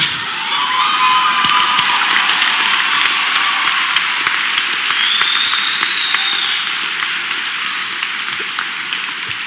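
A large crowd claps and cheers throughout at a PAX Prime panel, dense and sustained applause with whoops rising over it, loud and close.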